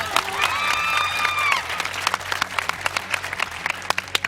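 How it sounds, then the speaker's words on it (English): A studio audience at an American Idol results show applauds, loud crowd clapping with some cheering that starts strongly and then thins into scattered claps, under a brief sustained musical tone. "You can clap for Brenna."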